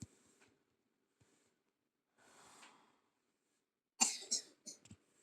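A short burst of coughing, a couple of harsh rough coughs close to the mic near the end, after faint quiet noises and a soft breathy rustle during a Roblox football career-mode game.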